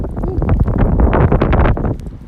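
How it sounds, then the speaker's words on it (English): Heavy wind buffets the microphone in low, rumbling gusts, a loud continuous roar that eases off near the end. "it's windy out here"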